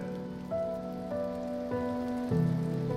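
Steady rain pours outside a quiet scene, a continuous wash of patter heard alone, with soft musical tones running beneath it.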